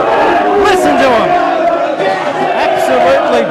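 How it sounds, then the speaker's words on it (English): A rugby crowd at a women's match roars and boos loudly and continuously after a disallowed try, a dense wall of voices from many people. "Oh, the crowd booing. Listen to them."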